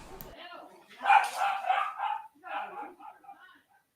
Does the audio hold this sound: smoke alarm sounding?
no